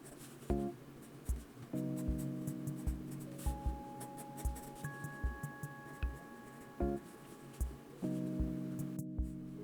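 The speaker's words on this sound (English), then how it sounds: "I'll draw this picture of Ichigo." Pencil strokes scratch across the paper of a new sketchbook while drawing an anime character, soft short rubbing bursts in an uneven rhythm, close and quiet, with faint tonal background hum.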